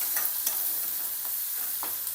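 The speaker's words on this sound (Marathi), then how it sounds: "कांदा लालसर होईपर्यंत परतवायचा" Onion sizzling and being stirred in hot oil with asafoetida, cumin and ginger-garlic paste, a steady close frying hiss broken by several soft scraping stirs of the spatula, no voices.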